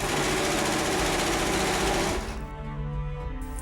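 A sewing machine runs steadily and loudly, stitching up the sides of a costume tunic, then slows and winds down near the end.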